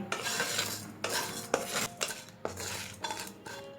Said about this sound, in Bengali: তারপর এই সমস্ত মশলাগুলোকে প্রথমে আমাদের শুকনো খোলায় ভেজে নিতে হবে